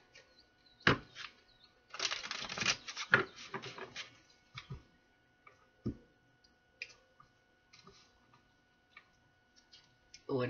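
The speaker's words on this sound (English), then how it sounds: "One more shuffle." An oracle card deck is shuffled, giving brief bursts of papery riffling and soft card clicks at moderate distance, with quiet gaps between bursts.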